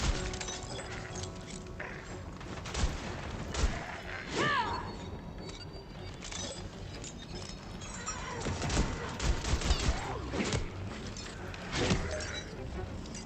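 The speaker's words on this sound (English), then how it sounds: "This pistol feels like it's meant to be shot very fast." Pistol fired rapidly in the video game Tiny Tina's Wonderlands, with bursts of sharp cracking shots and impacts over busy game effects and music, while voices talk intermittently.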